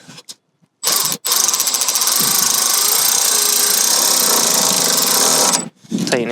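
Power driver tightening fender shroud fasteners on a GR Corolla, a loud, close, sustained high whirring buzz lasting about five seconds, bracketed by short clicks and bursts before and after.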